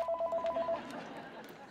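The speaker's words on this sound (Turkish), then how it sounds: "Ah, telefon çalıyor." A telephone rings in a Turkish sitcom home scene, its repeated electronic trills clear in the first second, then fading under raised voices and room noise.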